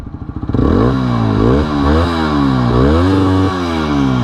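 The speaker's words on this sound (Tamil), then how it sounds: "ஸோ இன்னொரு வாட்டி எக்ஸாஸ்ட் நோட்டை கேட்டுட்டு நம்ம இந்த வீடியோவை முடிச்சுக்கலாம்." TVS Apache RTR 160 4V motorcycle starting up and revving close by, its single exhaust note rising and falling through several throttle blips with a strong harmonic drone, loud and alone without speech.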